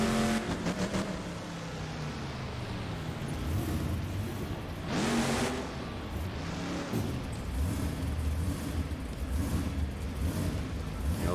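Monster truck engines in BeamNG.drive at a Monster Jam event in the Tacoma Dome roar and rev under continuous load, rising and falling whines with a loud burst midway, no talking.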